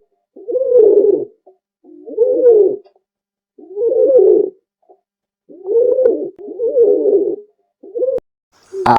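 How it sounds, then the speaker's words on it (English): A pigeon coos repeatedly at close range, with a steady series of soft, throaty phrases and brief pauses between them; a short click at the end. "pigeon"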